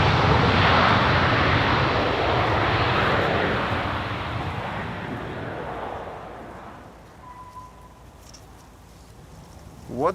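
A Boeing 737-900 airliner on final approach to Amsterdam Schiphol's Polderbaan runway in gusty crosswind, its broad jet roar loud and close at first, then fading over several seconds as it passes by.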